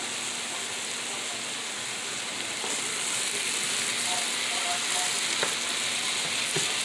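Bell pepper, poblano and a small yellow onion fry over medium-high heat in a pan, giving a steady, dense sizzle that holds level and slightly louder toward the end, with no voices.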